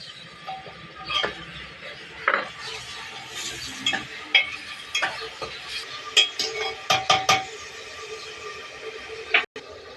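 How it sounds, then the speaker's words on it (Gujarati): Tomatoes go into a cooking pan with onions and are stirred, making intermittent scrapes and sharp clinks of a utensil against the pan over a faint, low sizzle. "હવે ટમેટા નાખી છે."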